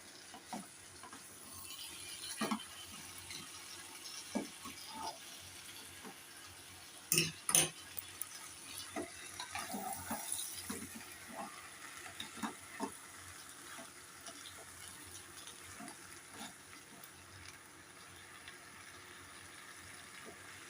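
Hilsa fish head curry with Malabar spinach greens and potato being stirred in a pan, faint sizzling with scattered scraping clicks of the spoon, a few sharper knocks midway, no voices.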